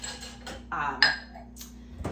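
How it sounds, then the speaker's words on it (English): Clean dishes being unloaded from a dishwasher, several close clinks and clatters of plates and cutlery in quick succession, with some brief voice nearby. "I'm going to actually unload the dishwasher."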